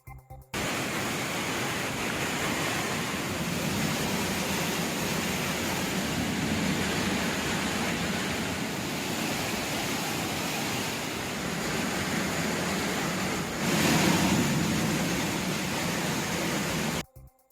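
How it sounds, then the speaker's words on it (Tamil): A waterfall on the Suruli river, in flood after heavy rain in the forest, gives a dense, unbroken roar of rushing water that stays loud and steady throughout, with no voices. "இதனால் வனப்பகுதியில் உள்ள ஆற்றில் நீர்வரத்து அதிகரித்ததால் அருவியில் வெள்ளப்பெருக்கு ஏற்பட்டது"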